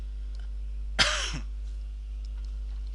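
One short, raspy cough-like throat clearing, close and fairly loud, over a constant low electrical hum.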